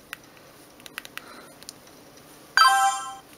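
A few soft clicks of button presses on a Sony Ericsson Z710i flip phone, then its standard message alert tone rings out, a bright, clean electronic chime that sounds briefly and fades.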